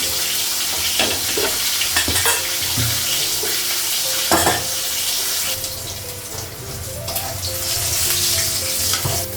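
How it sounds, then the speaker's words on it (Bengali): Rohu fish pieces fry in hot oil in a Bengali home kitchen, giving a steady, loud sizzle across the whole stretch with scraping stir clatters and a few sharp utensil knocks, no voices over it. "মাছগুলো ভাজা হয়ে গেছে।"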